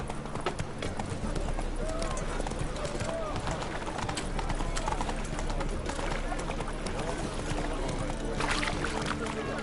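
Roach, a horse in the video game The Witcher 3, gallops with rapid rhythmic hoofbeats over a busy rumble, steady and close, with a voice speaking over it.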